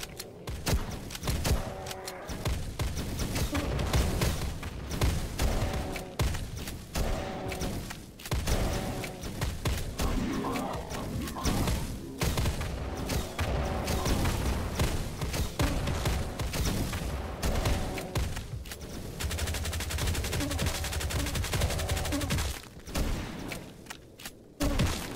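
Rocket launches and explosions ring out in a dark, industrial shooter, dense overlapping booms and gunfire-like bursts rolling continuously at close range with brief lulls.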